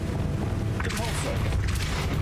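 Depulso force-push spell cast in Hogwarts Legacy, a heavy thumping burst with a whooshing magical swell, followed by a second impact, under continuous game ambience.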